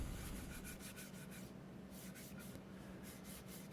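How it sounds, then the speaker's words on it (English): Steady, rhythmic hand sanding of a wooden clock, a dry scratchy rubbing repeated in quick strokes with a short pause midway, close and continuous. "Now I'm doing a light sanding"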